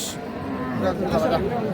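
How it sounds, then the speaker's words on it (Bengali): Bulls meant for sacrifice bellow at a busy cattle market, a short low moo heard close by amid crowd noise. "সামনে যে গরুগুলো দেখছেন এগুলো সবগুলোই আগামী কুরবানি উপযোগী ষাঁড় গরু।"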